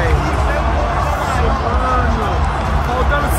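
Stadium crowd at a World Cup match in Qatar after a goal against Brazil, a dense, loud, continuous murmur of many voices with no distinct cheer, steady throughout.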